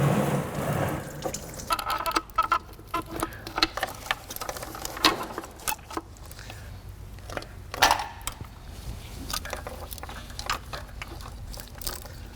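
Coolant draining from the thermostat housing of a Honda J-series V6 into a catch pan, a faint irregular trickle and splash mixed with scattered small clicks and taps, quiet and close.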